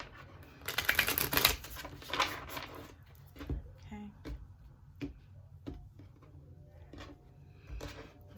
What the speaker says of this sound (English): I'll do 2 more shuffles.